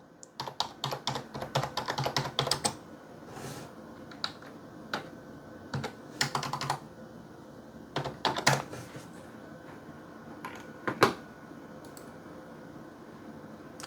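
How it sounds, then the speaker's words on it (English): Typing on a computer keyboard, bursts of rapid close key clicks separated by short pauses, ending with a few isolated taps. "So let's type in Twinmotion requirements."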